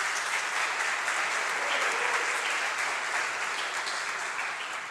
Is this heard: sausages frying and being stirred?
no